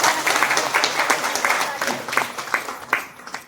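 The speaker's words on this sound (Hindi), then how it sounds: "सभी दीदी के लिए जबरदस्त ताली।" Lively audience applause at a DXN company speech event, fast rhythmic clapping from a crowd with distinct sharp peaks, loud and near, with a voice briefly heard over it.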